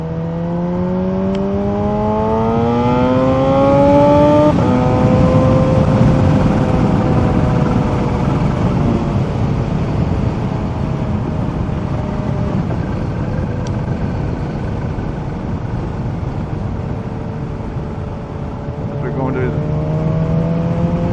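A Kawasaki Z H2 motorcycle at full throttle, its engine note climbing quickly through the gears and then settling into a sustained high whine under heavy rushing wind noise, heard loud and close from the rider's position.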